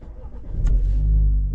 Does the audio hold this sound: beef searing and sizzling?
no